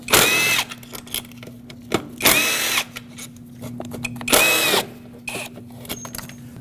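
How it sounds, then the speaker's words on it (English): A power tool spins out the four bolts on a Lexus IS250 throttle body in a workshop. Short, loud whirring bursts come close by, three strong ones and a shorter fourth, separated by brief quiet gaps. "so let's remove all 4 bolts"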